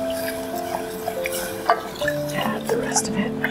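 A spoon scrapes and clinks as miso paste is stirred in a pot for soup, over a soft simmering sizzle with scattered utensil taps. Faint tonal hums run beneath it.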